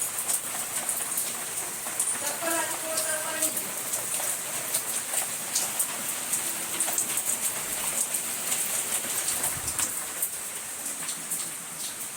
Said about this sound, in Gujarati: હવે બરાબરનો વરસાદ ચાલુ થઈ ગયો